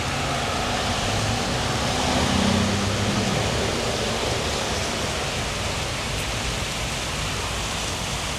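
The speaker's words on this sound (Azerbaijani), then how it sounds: "Getdikcə azalmaqdan çoxalır yağış." Heavy downpour on a street in Rome, a dense, steady hiss of rain that swells slightly early on and then holds constant, with no voices.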